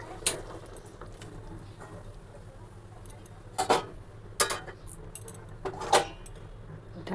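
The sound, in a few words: lid placed on cooking pot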